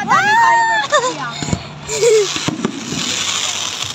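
Fireworks crack and boom in scattered bursts outdoors, mixed with whistling rockets, while excited voices and cheering chatter over them nearby.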